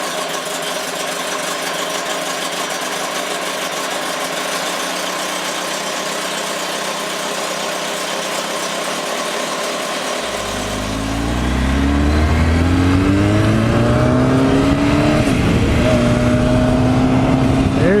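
A rebuilt Kawasaki ZX-10R motorcycle engine after valve retainer work: steady background hum at first, then the engine fires up around the middle and revs repeatedly, pitch climbing and falling in loud close sweeps.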